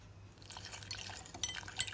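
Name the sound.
water added to instant noodle pizza mixture and stirred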